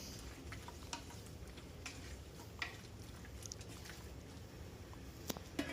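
Beef kaldereta seasoned with black pepper and a little salt is stirred in a pot, giving quiet, low scraping and soft bubbling with occasional faint clicks of the spoon against the pot, no voices.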